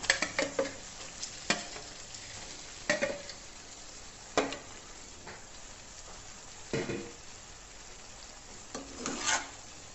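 Fried chicken stirred into sizzling masala in a pan, with a continuous frying hiss broken by repeated scraping strokes of a spoon against the pan.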